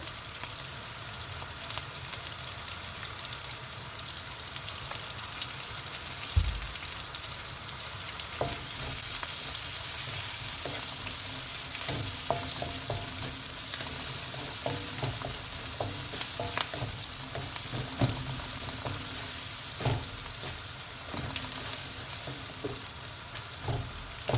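Onions sauté in hot oil in a pan with a continuous bright sizzle, broken by occasional scrapes and taps as they are stirred.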